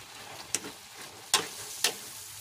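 Three sharp scraping strokes of a utensil in a pan as shrimp is stirred with a little sugar, spaced irregularly over a quiet background sizzle, close and fairly loud.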